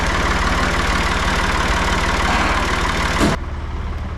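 Farm tractor engine idling close by, a steady low chugging throb with regular pulses that runs loud and even before dropping off abruptly near the end.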